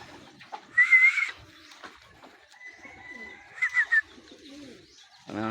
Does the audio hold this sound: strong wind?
no